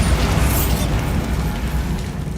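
A Bombarda blasting spell cast in Hogwarts Legacy, a loud booming explosion with a sharp burst at the start and a heavy low rumble that rolls on steadily for a couple of seconds.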